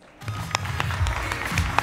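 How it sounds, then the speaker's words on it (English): A conference audience applauds panelists after a blockchain democracy session at BlockShow Americas 2018, a modest steady patter of clapping in a hall with a few sharper individual claps standing out. "Huge round of applause for the panelists on Building Democracy on Blockchain."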